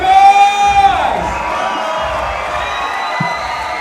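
Boxing fight crowd at Superfight 10 cheering loudly and steadily as the bout heads into its third and final round, a dense roar of shouts and whoops with a sustained tone fading early on.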